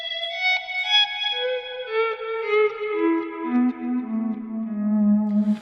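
An ambient electric guitar swell drenched in delay and reverb, its notes fading in smoothly and stepping downward in a slow melodic line, each tone smearing into long echoing repeats with no pick attack.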